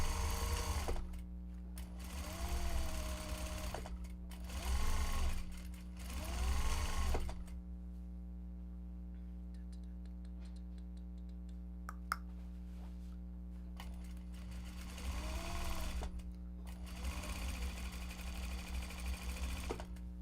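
Sewing machine stitching seams on a Japanese fabric bag, running in several short bursts of rapid mechanical whirring over a steady low hum, with quieter pauses between runs and no talk.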